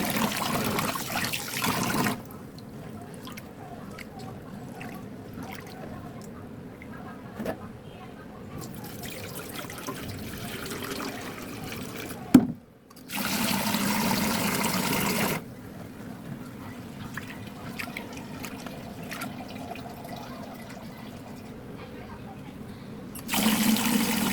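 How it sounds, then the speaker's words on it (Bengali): Rice and lentils washed in water in a kitchen, with splashing, trickling and pouring in several bursts, broken by quieter stretches where a voice talks faintly. "প্রথমে আমি চাল এবং ডাল ভালোভাবে ধুয়ে নেব।"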